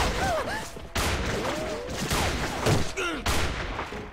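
Gunfire crackles through a video game firefight in loud, close, sustained bursts with brief breaks, mixed with whistling game tones and scattered voices.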